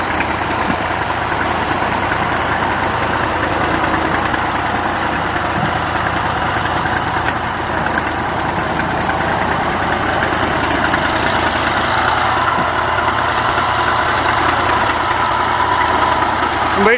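A tractor engine idles with a steady, continuous rumble and vibration, running loud and close for the whole stretch without any voices.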